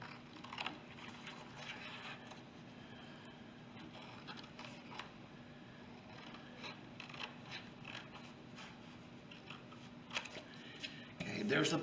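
Scissors cut out a paper tube for a straw rocket craft, faint close snips and paper rustles running throughout, with a voice talking quietly under them.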